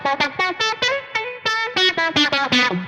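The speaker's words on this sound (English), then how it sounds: "my signal goes into the tuner, into the Ibanez AF9, just the coolest envelope filter there is." An electric guitar runs through an Ibanez AF9 envelope filter pedal in a funk tone, with a rhythmic run of plucked notes whose quacky, wah-like sweep shifts on each attack, loud and close, with no talking.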